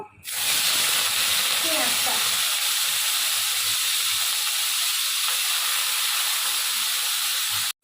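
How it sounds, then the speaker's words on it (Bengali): Steady, loud hiss of cumin seeds frying in hot oil, continuous and close, holding evenly for several seconds before cutting off. "জিরেটা একটুখানি ভাজা ভাজা হয়ে গেলে এর মধ্যে আমি দিয়ে দেবো"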